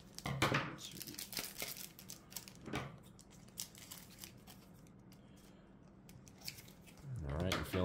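Scissors snip and slice through packaging on a Pokemon Arceus V figure collection box, giving crisp cuts and crinkling tears, with people chatting briefly around the cutting.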